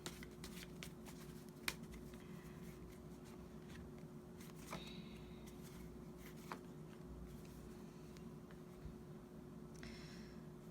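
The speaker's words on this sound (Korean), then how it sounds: "3장을 제가 좀 더 뽑아볼게요" Tarot cards shuffled and drawn by hand, soft faint riffling and sliding with scattered sharp card flicks and snaps over a steady low background hum, no voices.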